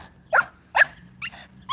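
A dog barks four times in short, evenly spaced bursts. The barks are sharp and close, and one sounds slightly whimpery. There is a low, quiet background between them.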